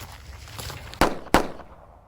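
Two sharp, loud gunshots from a Springfield Marine Corps Operator 1911 pistol at an outdoor range on an overcast day, fired about a third of a second apart, each with a short decaying tail.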